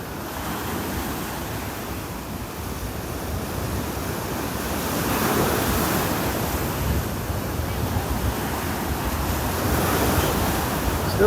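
Ocean waves roll onto a beach in North Naples, Florida, a steady broadband wash of surf with swells building midway, mixed with gusty wind noise against the microphone and no voices.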